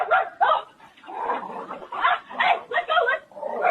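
A woman imitates a dog with her voice, producing a series of loud barks and yips in uneven bursts, close and alone.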